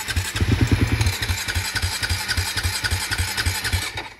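A KTM ATV engine cranks and catches, then runs in a rough, pulsing idle with rhythmic low thumps and small blips of throttle, close and fairly loud.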